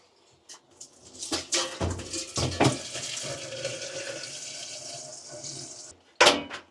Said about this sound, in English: we're going to swirl this out a few times, fill it up to make sure everything's out